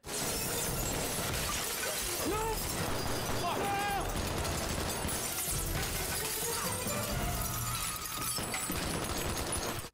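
Glass shattering into thick, chunky shards in an action movie, dense crashing and smashing debris filling the whole stretch under loud soundtrack with voices talking over it.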